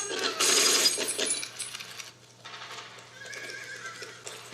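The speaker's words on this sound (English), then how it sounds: "He found himself a horse" A horse whinnies loudly and close in a World War II war drama scene, with hooves clattering and sharp metallic clinks behind it, fading to quieter background afterward.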